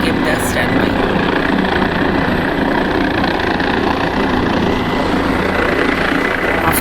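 Helicopter at the Kedarnath helipad, a steady, loud rotor and turbine roar that fills the whole stretch without a break, heard from nearby with faint voices mixed in.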